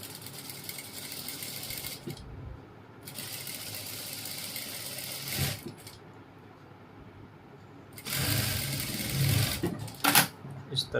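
A sewing machine stitches georgette fabric for a ladies' pant waistband in a steady, rapid mechanical whir. It runs in long stretches broken by short pauses, with clicks and handling noise while someone talks.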